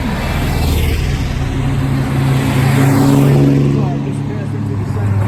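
A vintage Austin Healey race car rolls by in the 2019 Lime Rock vintage race car parade. Its engine gives a steady, fairly close drone that swells a little and then eases as it passes.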